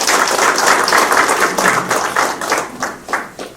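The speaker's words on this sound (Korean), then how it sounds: "한병도 상임선대위원장님께 힘찬 박수 부탁드립니다" Audience applause at a Democratic Party rally launching an election campaign committee in Jeonbuk, a sustained crowd clapping that fades slightly toward the end, with no voices over it.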